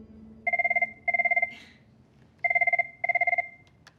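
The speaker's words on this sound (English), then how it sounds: "Oh, we got a phone call." A telephone rings with two pairs of bright electronic trill bursts, close and clear, separated by a short pause, in an office setting.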